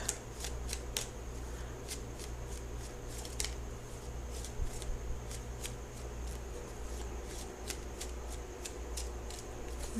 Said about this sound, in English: So I'm going to shuffle for the outcome card.